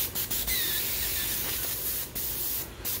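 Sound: airbrush spraying orange paint

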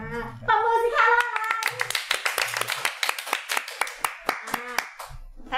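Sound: clapping to welcome the doctor

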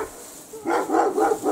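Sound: dog barking

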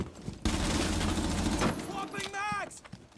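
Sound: gunshots in video game Rainbow Six Siege

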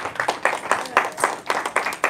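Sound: congregation clapping hands

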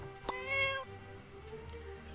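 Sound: cat meowing in the video game My Time at Portia

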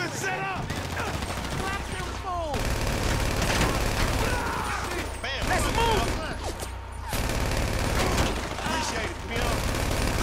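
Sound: gunfire in the video game Grand Theft Auto V

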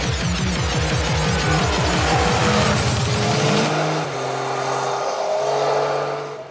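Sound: Yamaha Tracer 900 three-cylinder motorcycle engine while riding

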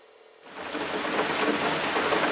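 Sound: rain falling

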